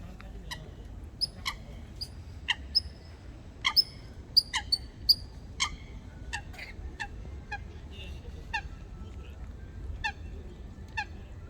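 A Eurasian coot calls repeatedly near a lake in a park, sharp short honking notes in irregular bursts over quiet outdoor background noise, moderately distant.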